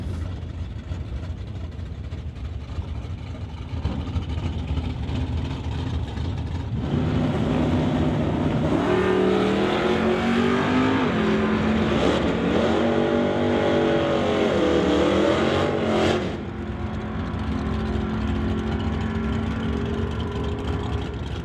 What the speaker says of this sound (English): That brings up Rich Dyes, the Transporters Logistics Chevy Nova to race Del North Graves over in the right lane.